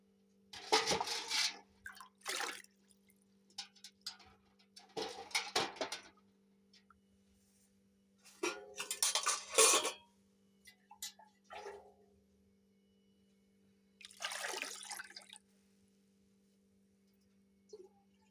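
Water splashes and sloshes in short bursts as a stone grinder is rinsed, several separate washing sounds with quiet pauses between them.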